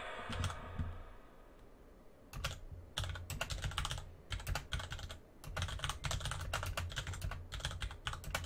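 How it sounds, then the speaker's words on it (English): Mechanical computer keyboard typed on in bursts, rapid sharp clicks in clusters separated by short pauses, close and clear against a quiet background. "I apologise for my mechanical keyboard. If you can hear it clicking."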